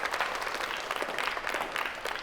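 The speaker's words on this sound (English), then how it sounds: "All right, yeah, you can clap now." Audience at a poetry reading and conversation in Houston clapping steadily, a dense patter of many hands at moderate distance without any voices.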